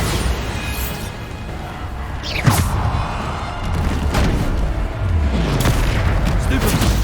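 Bombarda explosion spells go off in Hogwarts Legacy, with several heavy booming blasts and sharp cracks landing amid a loud, continuous rumble of spell combat.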